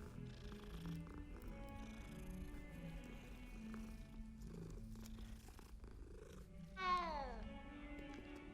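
A cat in Hogwarts Legacy purrs steadily as it is petted, a low rumbling texture running under game music, with a brief bright chime rising near the end.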